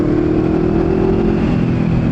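A loud, steady engine drone at close range, a Honda CBR500R motorcycle running with a constant throbbing hum and vibration.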